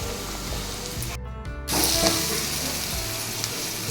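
Onions sautéing in a pan with ground chana dal paste for an elephant foot yam dish give a steady, close sizzle that cuts out briefly and then returns slightly louder.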